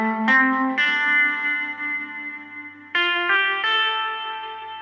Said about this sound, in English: So we'll have everything go into the delay and then the delay out to the reverb.